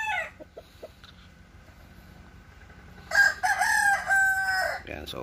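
A gamecock rooster crows loudly and close by in one long, drawn-out call, preceded by a few soft clucks and quiet background.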